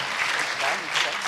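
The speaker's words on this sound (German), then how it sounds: "einmal einen Applaus für Micha" A church audience applauding a child named Micha during a sermon, a brief dense burst of clapping that holds steady throughout.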